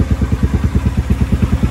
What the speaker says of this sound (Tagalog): Ano JK, kondisyon na ba yung motor?